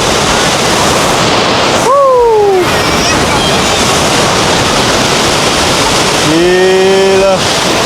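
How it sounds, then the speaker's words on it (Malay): A thunderous, unbroken roar of the Rhine Falls, Switzerland's great waterfall, sounds up close throughout, with short exclamations from a person standing nearby cutting through twice. "Air terjun dia."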